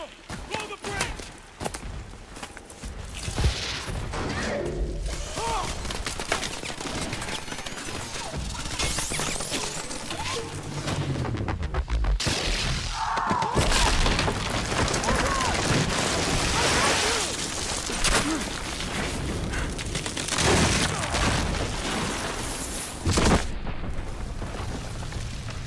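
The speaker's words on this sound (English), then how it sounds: "Mitchell, blow the bridge!" Bridge demolition amid gunfire in Call of Duty: Advanced Warfare, a dense, loud and sustained wash of crashing blasts, booms and shooting that barely lets up, with voices mixed into the chaos.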